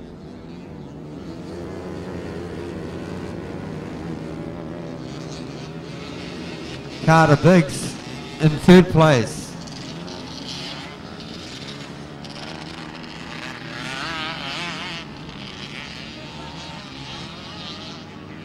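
Small grass kart engines, including a leading FXR 150, drone and buzz continuously as they race around a New Zealand grass track, heard at a distance under an announcer's commentary, with a brief louder engine pass midway.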